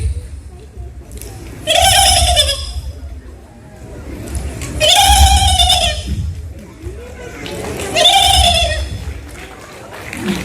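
A mimicry artist on stage at a Kannada anniversary event imitates a turkey three times, each a warbling, gobbling call separated by pauses, loud and near.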